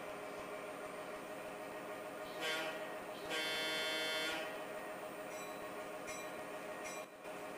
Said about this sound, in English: Here's our train arriving.